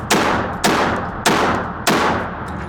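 A MAC 1014 semi-automatic 12 gauge shotgun fires four heavy, booming shots at a steady pace about half a second apart, each blast loud and close with a ringing decay, and no talking.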